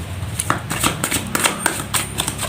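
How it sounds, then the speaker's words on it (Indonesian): Tarot cards shuffled by hand in a steady run of soft papery riffles and slaps, close up and fairly loud, with no voice over them. "Langsung saja saya shuffle kartunya."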